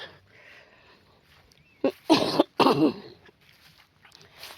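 A person coughs and clears their throat in two or three harsh bursts at close range, with quiet outdoor surroundings on either side.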